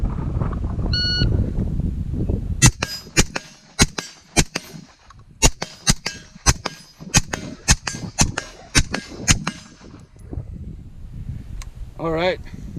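Rifle shots from a Primary Weapons Systems MK116 Mod1-M ring out at an outdoor range as about fifteen sharp reports, each with a metallic clang off a steel target. They come in an irregular string, with a few spaced closely together.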